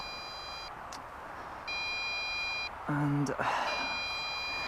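A MJX Bugs 3 Pro GPS drone beeping in repeated high tonal bursts, each lasting about a second with short gaps between, over a steady background hum, with a brief spoken word in the middle.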